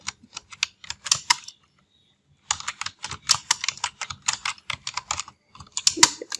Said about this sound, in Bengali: বসার পরে এখন আমরা লিখব অমৃতা